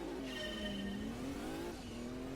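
Race car engine in the Gran Turismo 2 video game launching off the start line against a Citroen Saxo on a bumpy Smokey Mountain course: a steady, close revving drone rising in pitch with faint tyre squeal, no talk.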